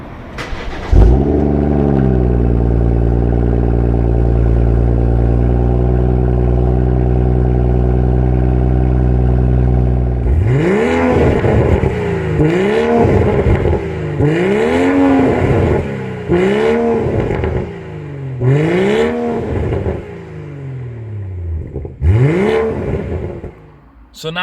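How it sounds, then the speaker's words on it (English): BMW M140i fitted with a Remus exhaust fires up from cold with a loud catch and settles into a steady high idle for several seconds, then a series of sharp revs rises and falls about six times, close and loud. "let's let you guys hear the cold start, and then some revs"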